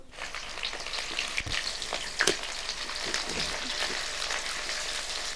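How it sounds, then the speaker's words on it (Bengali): Chopped onion hits hot oil seasoned with bay leaf, giving a strong, continuous sizzle and crackle close up, with a few sharper pops and stirring noises. "তারপরে এটাতে আমি এখন পেঁয়াজ দিচ্ছি পেঁয়াজ কুচি"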